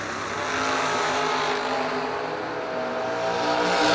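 Drag racing cars including a 1995 Olds Cutlass Pro Stock roar down a bracket nationals strip, a loud sustained engine blare swelling and holding throughout with no talk.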